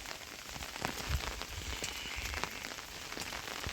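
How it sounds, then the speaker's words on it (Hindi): Heavy rain pours down in a dense, continuous hiss with scattered louder drops and splashes, fairly close and with no voices. "बहुत ज़्यादा ही है बारिश।"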